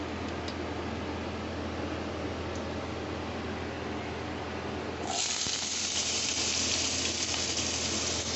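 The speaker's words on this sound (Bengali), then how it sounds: "সাদা তেলে আমি এই আলু আর গাজরটা ভেজে নেব" Potato and carrot pieces frying in white oil in a pan: a steady hiss that jumps into a louder, bright sizzle about halfway through as the pieces hit the hot oil, with no voice.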